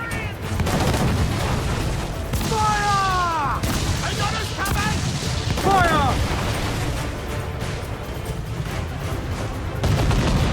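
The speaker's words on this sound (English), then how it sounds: "To quarters all, man the cannons!" Pirate ship cannons in Assassin's Creed Black Flag, firing in repeated booming blasts and scattered bursts across the battle, with shouting voices and music mixed in.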